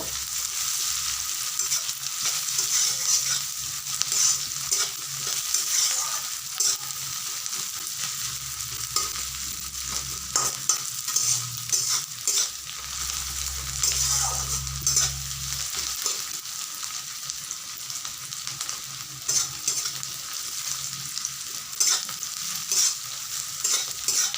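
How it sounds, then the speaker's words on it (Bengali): Onions sizzle gently in a pan for a long stretch, a continuous close hiss broken by frequent stirring scrapes and a few low rumbles. "সেই কারণে পেঁয়াজগুলোকেও হালকা করে ভেজে নিব"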